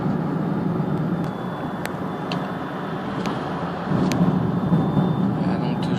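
Inside a moving electric Smart car, a low steady road and tyre rumble fills the cabin with occasional light ticks while a person talks over it.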